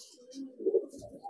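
A racing pigeon named Arya Gading coos while courting, soft low throaty rolling coos close to the microphone, swelling in the middle, with faint background noise.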